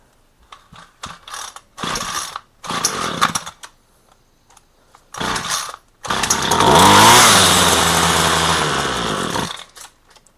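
A small engine with a freshly cleaned carburetor fires in several short, sputtering bursts with the choke on. It then catches and runs loud and rough for about four seconds before dying out.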